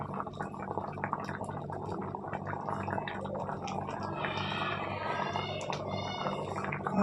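Assamese fish head curry (muri ghonto) with dal, garlic, green chilli and water simmers in a pot, giving soft, continuous bubbling and faint sputtering at low volume.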